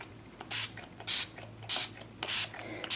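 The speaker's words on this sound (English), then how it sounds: "you take this shedding aid and you spray it on them" A pump bottle of shedding aid is sprayed onto a snake in four short, close hissing bursts, evenly spaced with quiet gaps between them.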